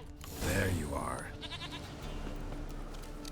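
A goat bleats in The Witcher 3, a single drawn-out wavering cry up front, then fading into a low ambient game background.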